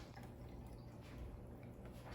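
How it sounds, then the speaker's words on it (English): Homemade ginger ale fizzing and bubbling as it is strained, a steady close wash of small liquid pops and trickling with no voices. "Do you hear the bubble?"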